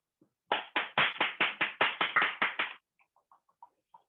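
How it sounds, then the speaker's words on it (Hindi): Audience applause welcoming a speaker at a health talk, a steady run of about a dozen loud rhythmic claps in unison that then trails off into a few faint scattered claps. "जोरदार ताली के बीच में हम इनवाइट करना चाहेंगे।"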